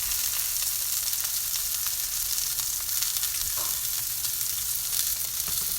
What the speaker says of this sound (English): So we're gonna check on the sear of the steak